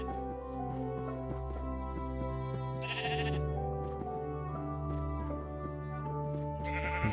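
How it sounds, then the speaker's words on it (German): Sheep bleating in the video game Minecraft, a few short bleats over a quiet steady game music background, fairly soft and without talk. "Bringen wir die Schafe mal nach Hause."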